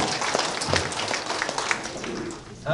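An audience claps at a clan family friendship gathering in a large banquet hall. The applause is moderately loud and sustained, with faint voices mixed into the clapping.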